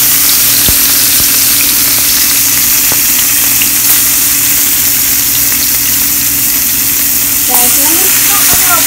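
Peppers and onions fry loudly in a pan as the base for shrimp, a dense, continuous close sizzle with a low steady hum beneath and a few brief clicks and splutters.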